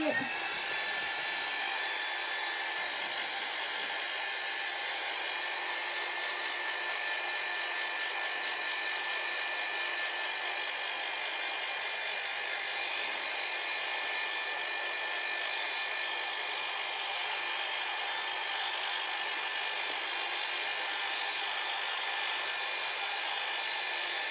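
A hair dryer blows steadily to dry paint on a leather scrapbook album cover, giving a continuous, even whooshing hiss with a faint whine that runs unbroken and fairly close throughout.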